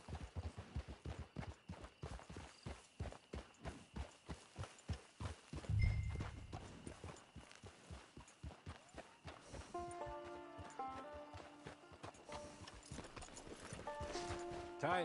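Hooves clip-clop at a steady walking rhythm in Red Dead Redemption, close and continuous through the stretch, with a heavier thud partway and soft ambient music tones rising underneath later on.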